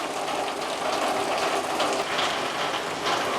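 Heavy monsoon rain pours without pause on a tin roof, a thick broadband roar with scattered pattering overhead, unbroken and loud.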